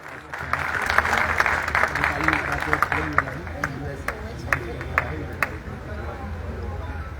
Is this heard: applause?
yes